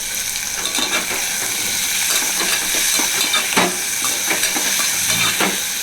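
Small shallots fry with salt in a hot pan, giving a loud, steady sizzle and hiss close by, broken by scraping stir strokes and occasional clinks, with no voices.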